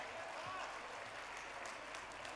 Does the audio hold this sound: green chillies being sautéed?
no